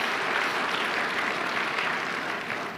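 Steady, dense applause from an audience at a Filipino religious program fills the whole stretch, sustained and even before easing slightly at the end, with no voices over it.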